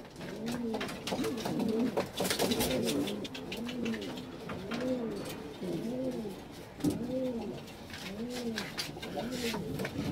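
A pigeon coos repeatedly nearby, soft rounded calls recurring at a regular rhythm over about ten seconds, against a light outdoor background.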